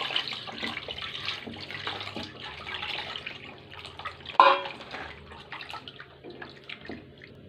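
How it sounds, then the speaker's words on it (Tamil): Water sloshes and trickles as mutton is rinsed by hand, with splashes and drips, one sharper splash midway; close and fairly quiet. "ரெண்டாவது வாட்டி தண்ணி ஊற்றி கழுவலாம்."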